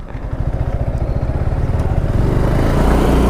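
An RC 200 motorcycle engine idles with a rapid, throbbing putter, then revs up and grows louder and steadier, close by.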